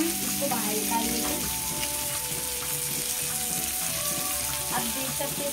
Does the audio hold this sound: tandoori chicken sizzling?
yes